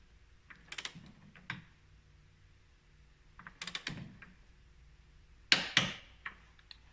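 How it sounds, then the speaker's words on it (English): A torque wrench tightens the pivot shaft nut on a 1700 Yamaha Silverado motorcycle, giving short bursts of rapid ratcheting clicks in three separate groups, close and fairly quiet. "So the pivot shaft, which is this nut here, we're going to torque it down to 90 foot-pounds."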